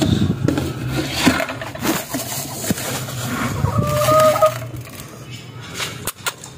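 Chickens cluck and squawk in short bursts nearby, with a couple of higher calls near the end, over scuffling and some background voices.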